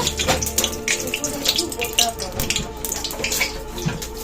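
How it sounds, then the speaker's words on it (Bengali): Hands are washed under a running kitchen tap while a hilsa fish curry is being cooked at home. A steady, splashy stream of water keeps going, with faint voices in the background. "হাতটা ধুয়ে নিয়েছি ভালো করে"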